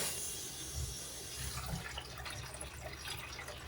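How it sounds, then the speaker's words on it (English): Water runs and drains steadily through a kitchen sink just after a garbage disposal repair, a continuous close rushing and gurgling wash with no voices. "Let's just see if it's draining"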